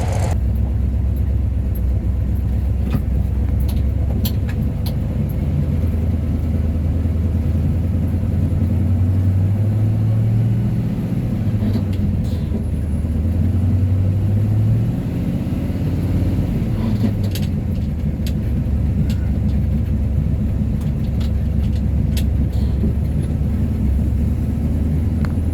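A 1963 Ford F100 pickup with a Y-block V8 runs continuously, a loud, low droning rumble that rises and falls slightly in pitch as the engine revs, with no talk over it.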